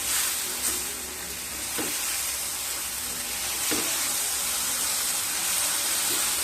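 Okra cooks with garam masala and kasuri methi in a pan, a dense, close and constant sizzle with only a few soft stirring taps, no one speaking.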